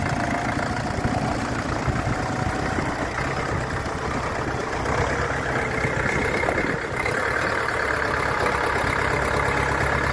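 Four-wheel-drive small tractor with a diesel engine and a creeper gearbox rolling in, a steady mid-low engine drone that stays close and constant, with no talk.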